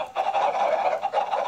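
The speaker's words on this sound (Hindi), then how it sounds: "मुर्गी एक देते जा रही है।" Minecraft chickens on an egg farm, a steady run of game clucking sounds repeating throughout, fairly loud and alone.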